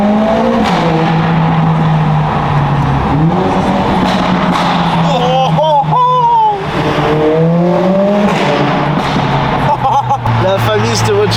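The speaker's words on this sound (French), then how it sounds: "je suis dans le Mercos. Oh, putain il est incroyable, il fait un de ces bruits de fou" A Mercedes sports car's powerful engine drones and revs loudly for several seconds, its pitch rising and falling, heard from inside the car with voices talking over the roar.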